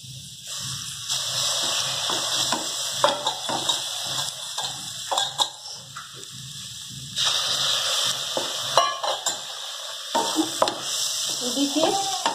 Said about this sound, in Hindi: इसको थोड़ा सा हिला देंगे, मिक्स कर लेना है